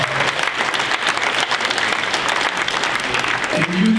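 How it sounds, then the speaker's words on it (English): Audience applause fills a charity fundraising event, a dense, steady clatter of many hands clapping close and loud for about four seconds, with a voice briefly rising near the end. "And you deserve that applause."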